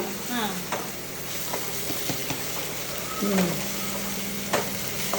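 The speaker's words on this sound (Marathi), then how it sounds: "चलो कैसे मिक्स कर रही है मम्मी" Dried-fish (sukat) chutney paste sizzles steadily in a pan while a spoon scrapes and stirs it in repeated strokes, close up, with a faint voice now and then.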